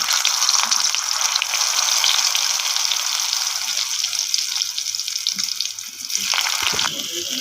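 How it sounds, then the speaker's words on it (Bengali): Potatoes frying in hot oil with bay leaves and whole cumin seeds, a steady bright sizzling hiss that dips briefly near the end before resuming, with a few faint stirring scrapes. "দেখুন আমার আলুগুলো ভাজা হয়ে গেছে, এবার আমি তুলে নেব আলুগুলো।"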